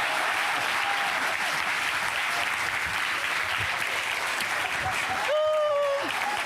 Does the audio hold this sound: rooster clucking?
no